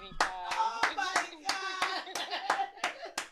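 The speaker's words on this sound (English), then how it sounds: "Everybody, let's clap for him." Close hand clapping from a small group on a morning show, about ten sharp irregular claps over a few seconds with a little vocal noise between them.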